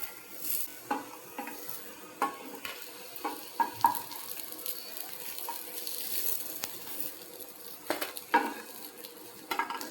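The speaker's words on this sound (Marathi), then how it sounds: "कटलेट्स मी शॅलो फ्राय करून घेते आहे." Soya granule cutlets shallow frying in a pan, with a steady faint sizzle of oil and occasional clinks and scrapes of a utensil against the pan, no voices.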